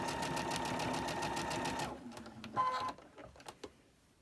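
A sewing machine stitches quilt pieces in a fast, even mechanical rattle for about two seconds, then stops, leaving a few soft clicks and handling noises.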